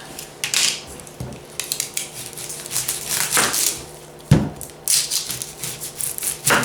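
A Universal Series chef's knife chops through a large yellow onion on a board, with scattered crisp slicing crunches and sharp taps against the surface, close and irregular, and no talking.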